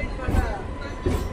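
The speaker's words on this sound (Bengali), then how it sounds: "এবার আমাদের ট্রেন রওনা দিল সোজা হাওড়ার পথে" A passenger train pulling out of Masagram junction toward Howrah rumbles and clatters, with a low steady roll and a couple of heavier wheel thumps over a short moment.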